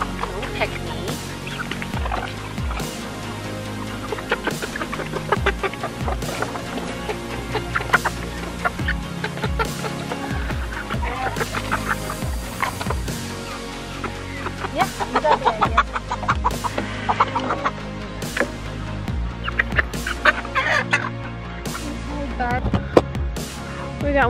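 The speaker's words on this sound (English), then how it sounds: "One loose chicken." Loose backyard chickens cluck and squawk in a busy, overlapping chorus close by, with scattered sharp calls over a steady rustling bed while a person talks to them.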